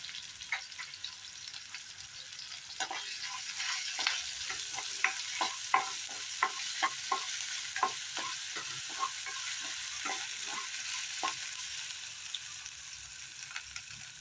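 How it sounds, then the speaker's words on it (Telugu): Ginger garlic paste fries in hot oil for rasam, a constant low sizzle broken by many sharp clicks and taps of a spoon stirring against the pan, close by. "బాగా వేగనివ్వాలి. దీంట్లో అల్లం వెల్లుల్లి పేస్ట్ వేసుకుందాము."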